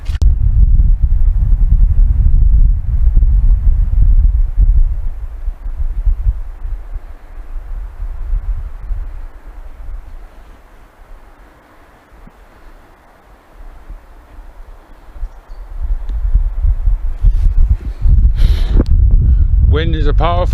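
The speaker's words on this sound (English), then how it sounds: "Wind is a powerful thing." Strong wind buffets the microphone out on Dartmoor, a rumbling gusty roar that dies down midway and then surges back, with a voice briefly at the end.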